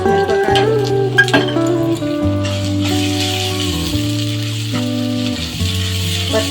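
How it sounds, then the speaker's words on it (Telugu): Green chillies and turmeric fry in a pan with a continuous sizzle. Clinks and scrapes of stirring sound close, and strong sustained tonal layers, like background music, run underneath. "పచ్చివాసన పోయేంత వరకు వేయించుకున్నాను."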